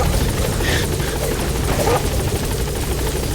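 A helicopter's steady rotor drone in a video game (Metal Gear Solid V) fills the clip, loud and continuous, with faint voices briefly underneath.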